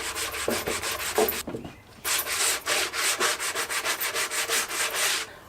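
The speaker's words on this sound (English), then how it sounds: "finish sand, and seal this thing." An end grain wooden cutting board is sanded with steady, rhythmic back-and-forth strokes, close and fairly loud, with a short break partway through before the even scraping rhythm resumes.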